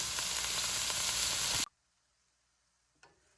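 Zucchini and mushrooms saute in a pan with a loud, steady sizzle that cuts off abruptly, leaving near silence broken by one small clink.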